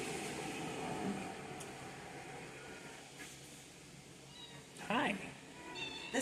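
A cat meows a few times indoors at an animal shelter, the calls fairly close over a steady background murmur, with the loudest, rising meow near the end.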